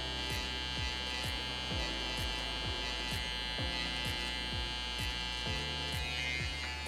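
A straight electric hair clipper cuts straight lines into a design on a mid fade haircut, giving a close, steady buzz with regular ticking pulses as the blade moves through the hair.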